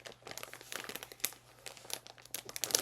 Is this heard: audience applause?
no